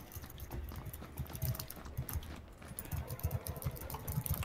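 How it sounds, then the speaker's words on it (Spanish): Quiet, rapid clicking from a computer keyboard being typed on, irregular bursts of small taps close to the microphone and fairly faint throughout. "Por favor, el teclado."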